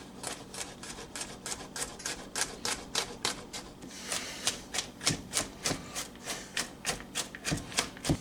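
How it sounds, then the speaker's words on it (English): A knife chops garlic cloves finely on a board in a rapid, steady run of sharp taps. The taps grow louder and more spaced in the second half, close and alone. "Just take your garlic, chop it up real fine."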